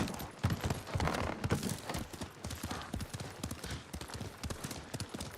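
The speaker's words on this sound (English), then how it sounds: "the sound design is incredible. Like, really immerses you in the fact that you're riding a horse" Hooves clip-clop at a brisk, steady gait while a horse is ridden in the video game Ghost of Tsushima, close and fairly loud over a wash of rustling outdoor ambience, with no talking.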